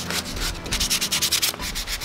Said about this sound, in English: after hand sanding about 5 of them